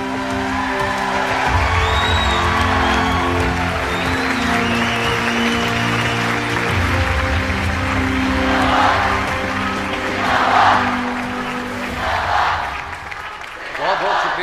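Applause and cheering from an audience at a formal ceremony, a broad sustained clapping roar with a few whoops, loud and continuous, swelling and fading near the end.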